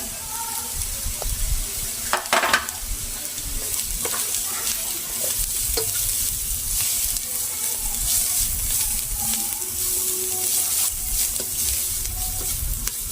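Grated carrots and cabbage sauté in a pan with a continuous sizzle, broken by sharp scraping stirs and clinks of the spoon against the pan, close up and steady throughout.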